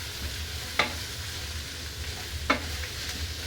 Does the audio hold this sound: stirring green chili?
yes